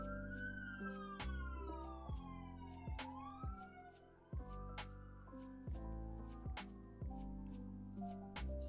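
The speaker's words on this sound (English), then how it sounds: "That's really loud sirens outside my house." Loud police-type sirens wail outside a house, several overlapping rising and falling tones sweeping continuously, with repeated sharp clicks and tonal bursts from a game layered on top.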